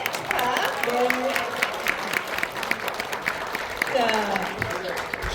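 Audience applause at a Korean internet journalism awards ceremony honoring four winners, brisk clapping throughout while people talk in Korean over it.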